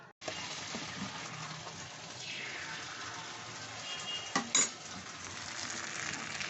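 Batter for a Moghlai paratha with chicken filling poured onto a hot tawa, a soft steady sizzle after a sudden start, with a couple of sharp metallic clinks near the end.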